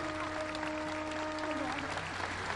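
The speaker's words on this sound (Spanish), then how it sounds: "Un aplauso bien fuerte para todos los beneficiarios de estos programas" A crowd at an outdoor government program event in Acayucan, Veracruz claps steadily, fairly faint and distant, with a faint voice and a hum underneath.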